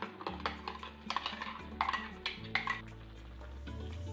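Stirring ground coconut paste into cooked pineapple in a pot for Kerala-style pineapple pachadi, with repeated soft scraping and clinking of a spoon against the pot, close and steady, with no talking.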